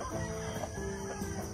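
Native Filipino backyard chickens cluck softly at close range, with a steady murmur of fowl sounds and faint rooster-like calls through the whole stretch, no talk.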